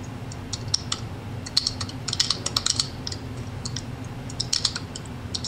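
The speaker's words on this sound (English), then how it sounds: "y'all stop that typing" Computer keyboard typing during a quiz show taping, with bursts of light clicking keystrokes in uneven clusters over a constant low studio hum, no voices.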